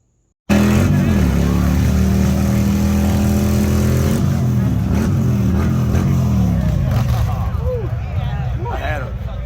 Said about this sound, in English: And what motorcycle rally would be complete without a burnout box?